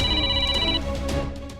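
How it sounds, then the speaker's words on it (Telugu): A police station landline telephone ringing nonstop, loud electronic ringing tones sounding close, one ring cutting off partway while the tone carries on. "స్టేషన్ ల్యాండ్లైన్ కూడా ఆగకుండా మోగుతుంది సార్."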